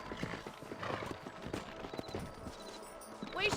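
Horse hooves clip-clop at an easy pace amid Red Dead Redemption game ambience, with a brief whinny-like sound near the end; fairly quiet.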